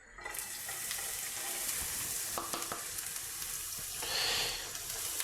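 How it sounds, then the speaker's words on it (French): Chopped onions hit hot oil in a pan for a mushroom risotto, giving a steady, close sizzle that swells briefly midway with faint stirring clicks and no talking. "Mon huile, elle est bien chaude. Je vais mettre mes oignons."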